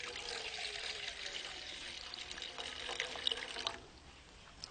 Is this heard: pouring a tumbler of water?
yes